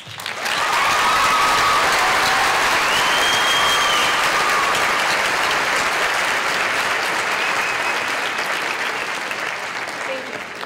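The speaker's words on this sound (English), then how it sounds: "please give her a round of applause" A large crowd at a Brownsville Early College High School 2016 commencement ceremony bursts into loud, sustained applause, a thick roar of clapping that holds for about ten seconds, with a few whistles and cheers rising above it before it slowly eases.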